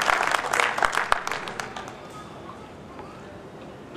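An audience at a civic honour ceremony in Sujangarh applauds densely for the first two seconds. The clapping then thins to scattered claps and fades into quieter room noise.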